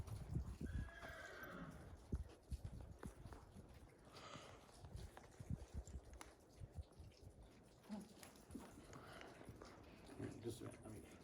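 A horse neighs and whinnies while its hooves clip-clop as it moves away from someone trying to bridle it, the sounds close and repeated in short bursts, with people talking nearby throughout.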